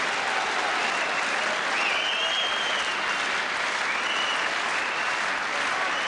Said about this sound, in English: had his arms up and was taking the applause of the crowd